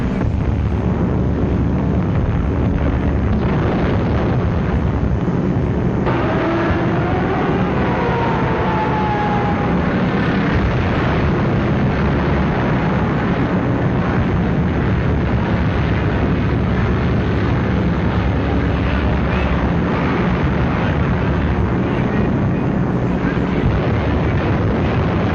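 Wartime bombing raid from a 1943 film, a dense, roaring wash of explosions and aircraft noise, loud and continuous throughout with no distinct separate blasts.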